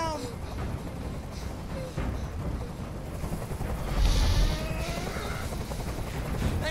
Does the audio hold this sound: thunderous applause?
no